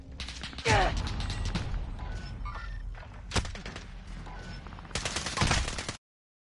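Gunfire in Call of Duty: Warzone, with bursts of close, loud shots, sharp cracks and thuds among rumbling game noise. A heavier volley near the end stops abruptly, and voices come and go underneath.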